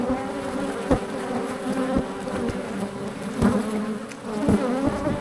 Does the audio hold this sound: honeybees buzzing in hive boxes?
yes